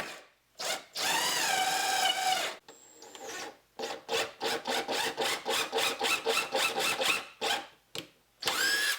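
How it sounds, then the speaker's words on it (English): A power drill whirs in a long burst, then a rapid series of short drilling pulses follows as it bores shelf pin holes, close and loud, with brief pauses between. "put a piece of tape on the drill bit indicating the depth that I want the drill bit to go"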